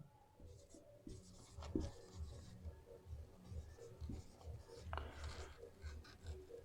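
Chalk or marker scratches and taps against a classroom board in short, irregular strokes during a Class 10 biology lesson, close and faint, with no speech over it.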